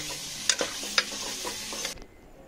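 Spicy mutton and chana dal curry gets stirred in a pan, with a steady sizzle under a few sharp spoon scrapes and clinks that stop abruptly near the end.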